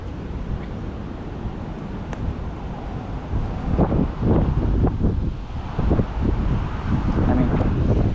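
Gusty wind buffets the microphone beside a roadside creek, a low rumbling roar that swells in stronger bursts partway through, with faint talk underneath.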